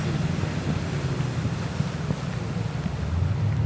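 An inboard motorboat runs on a river during early-winter steelhead fishing, its engine a continuous low drone mixed with steady wind rush and water noise, with no talking.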